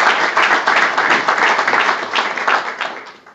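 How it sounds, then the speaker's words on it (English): A county gathering's audience gives a round of applause, many hands clapping in a lively, uneven wash that swells and eases over a few seconds before tapering off. "Give Charlie a round of applause,"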